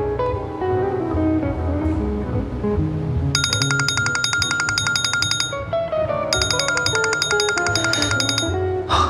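An office telephone rings in repeated electronic trills, two bursts of ringing over a soft musical background, fairly loud and close.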